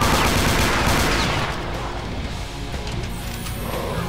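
Rapid automatic gunfire from a weapon in the video game Brutal Doom, a dense, loud, continuous burst that fills the whole stretch, slightly easing after the first moments but never stopping.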